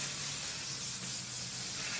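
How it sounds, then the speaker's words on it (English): Hairspray hissing from an aerosol can onto hair, one continuous steady spray lasting the full two seconds, close and fairly loud with no talking. "Little hairspray in the hair."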